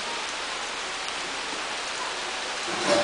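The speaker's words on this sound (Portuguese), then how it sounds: "Olha como escureceu tudo de chuva." Steady rain falls at a moderate distance, a soft, even hiss that stays constant throughout, with no one speaking.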